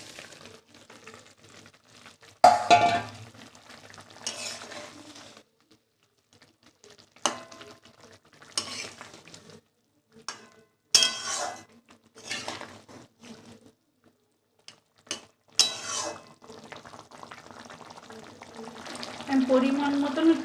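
Boiled egg and potato go into simmering gravy in a pan for an egg curry, with sharp clatters and scrapes of a spoon against metal in bursts, separated by quiet gaps, over a faint background sizzle.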